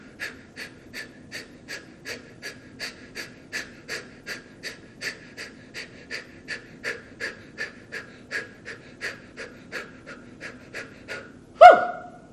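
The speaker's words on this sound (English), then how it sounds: "double down on your exhale, leaving your body, contracting your muscles so that your exhale leaves your body" Rapid, rhythmic forceful exhales during a breathing exercise, roughly two per second, close and steady for about eleven seconds before ending in one sharp, louder gasp.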